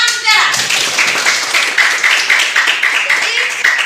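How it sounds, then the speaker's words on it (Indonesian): Classroom clapping during a religious education lesson, a rhythmic patterned clap of many hands in steady repeated bursts, loud and close, with a teacher's voice briefly at the start. "Tepuk tangan saudara."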